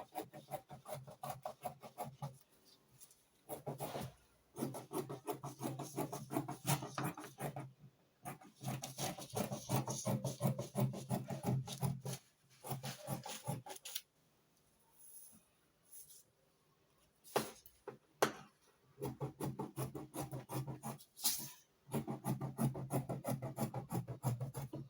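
Scissors cutting fabric for a draped skirt with a high slit, a run of close, soft crunching snips and rasps in uneven bursts with brief pauses, no voices over it.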